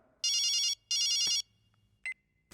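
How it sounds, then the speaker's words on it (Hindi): A phone rings indoors in a Hindi-dubbed horror film, two loud electronic ring bursts with a short gap, followed by a brief beep and a faint click. "किसका फोन बज रहा है?"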